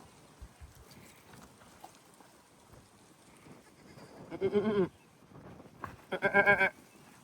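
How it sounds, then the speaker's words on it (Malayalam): Two bursts of goat bleating in a Namibian village, a short wavering bleat followed a little later by a louder, longer one, over a quiet outdoor background. "ഇത് ഈ ഗ്രാമത്തിലെ എല്ലാവരുടെയും മുതലാണ് ഇത് ഈ ചെറിയ കുഞ്ഞാപ്പി ആടടക്കം"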